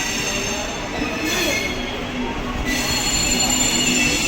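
A passenger train sits and moves in a railway yard with a steady, loud rumble and a high metallic wheel squeal running throughout.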